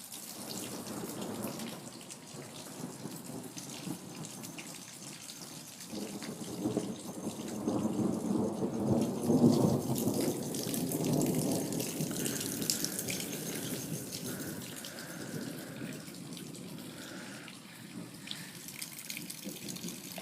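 Steady rain pouring during a thunderstorm in Phoenix, Arizona, with rolling, rumbling thunder swelling in the middle and fading, heard from fairly close and without voices.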